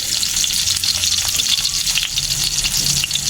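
Garlic and onion sauté in a hot pan for a saluyot dish, a steady close sizzle with faint stirring scrapes throughout, no talking.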